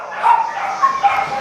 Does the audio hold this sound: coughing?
no